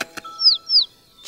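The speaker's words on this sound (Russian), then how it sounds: "Сейчас мама услышит его зов и прилетит за ним." Two high, sweeping chirps from a cartoon baby bird chick calling out, close and clear, each a quick falling tweet, with a faint click before them and no talk.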